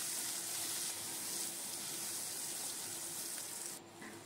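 Potatoes frying in a small amount of oil with salt and turmeric, giving a steady, close hiss of sizzling that holds evenly for several seconds and dips slightly near the end.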